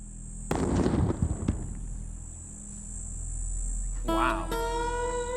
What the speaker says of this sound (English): we have the explosive equivalent of TNT. So let's see how big of a bang that makes.